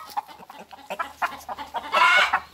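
A rooster in a farmyard gives a run of short, sharp clucks and squawks, close and fairly loud, and ends in a longer strained crowing call. No one speaks.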